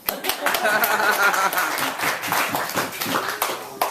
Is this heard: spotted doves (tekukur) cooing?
no